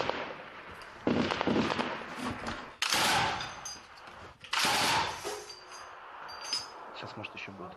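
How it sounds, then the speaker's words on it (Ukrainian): Small-arms gunfire along front-line positions in the Luhansk region at dusk: bursts of shots and rapid automatic fire, some close and sharp, others more distant, crackling repeatedly through an ongoing firefight with no speech. "Зав'язується тривалий стрілецький бій."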